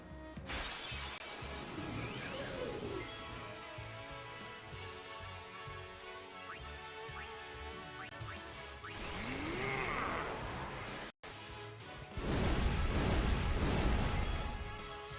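Grenade explosions from the Final Fantasy X role-playing game arrive as loud shattering bursts, one near the start and more toward the end, over a steady bed of game music with no talking.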